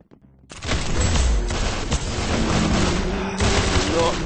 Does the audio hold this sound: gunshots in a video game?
yes